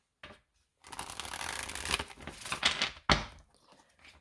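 A deck of tarot cards is shuffled up close, a dense papery riffle running for about two seconds, then a sharp snap as the cards come together and a few softer taps.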